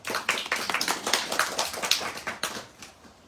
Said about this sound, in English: One clapping for him.